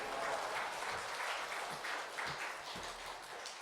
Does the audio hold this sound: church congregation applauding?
yes